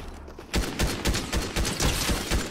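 Rapid bursts of gunfire in Fortnite, sharp repeated shots firing in a steady rhythm after a brief quiet start, loud and close throughout.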